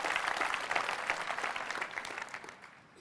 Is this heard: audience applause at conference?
yes